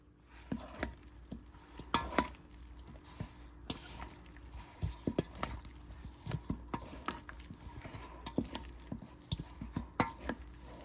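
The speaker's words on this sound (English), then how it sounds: "stir this up, the butter and the buffalo sauce" Butter and buffalo sauce stirred together in a bowl, a faint run of soft wet scrapes and spoon taps at an irregular pace, close by with no talking.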